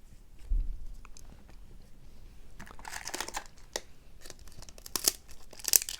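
A 1994 Stadium Club baseball card pack wrapper is torn open close up, giving crinkly tearing bursts and a loud crunch near the end, with quieter rustling between.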